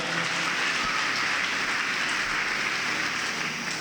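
An audience at a religious gathering applauds, a dense, even wash of clapping that sounds like steady rain and continues unbroken at moderate loudness for the whole clip.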